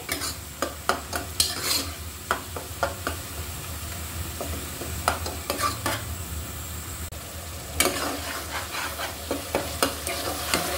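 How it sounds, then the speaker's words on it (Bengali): Spice paste sautés in oil for a Barisal-style prawn jolbora, a steady close sizzle punctuated by frequent scraping and clacking strokes of a spoon stirring the pan. "মশলার কাঁচা গন্ধ চলে যাওয়া পর্যন্ত কিন্তু আমার কষিয়ে নিতে হবে।"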